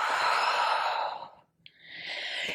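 A long breathy exhale during a mat pilates exercise for legs and core, loud and close, tapering off into a short silence before a fresh breath begins.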